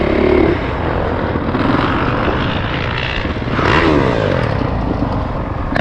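A 2021 Honda CRF450R dirt bike engine drones steadily while being ridden, loud and close with a raspy, continuous tone and a slight surge in revs midway, with no talking.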